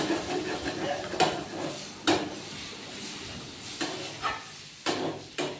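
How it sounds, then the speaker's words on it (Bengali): A spatula stirring and mashing spiced potato filling for samosas in a pan makes soft scraping sounds, with several sharper knocks against the metal spaced a second or so apart. "এবার একটু খুন্তি দিয়ে এটাকে ম্যাশ করে দেব"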